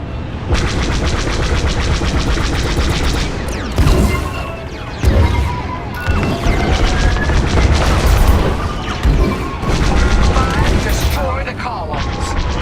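Heavy blasts and explosive booms pound continuously over dense music and effects as columns are shot and destroyed in the Star Wars: Squadrons space-combat game, loud and crowded, with brief pauses between bursts.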